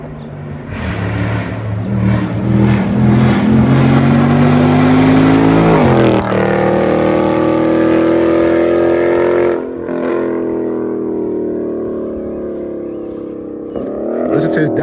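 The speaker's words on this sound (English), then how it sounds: "Listen to his downshifts," An 800hp FBO-built Camaro ZL1 1LE race car roars close by at very high volume, its engine climbing through revs and then dropping sharply on downshifts, with excited voices talking over it.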